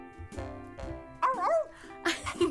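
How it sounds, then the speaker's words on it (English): A dog gives a few short barks and yips close by, separated by brief pauses, with tonal voice-like sounds and faint music in the background. "this is my best dog, Stormy Jane"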